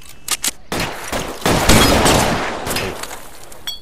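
Dense bursts of Tommy gun fire from a shootout in the video game L.A. Noire Remastered, a few short shots and then a sustained loud rattling volley lasting several seconds, with no talk.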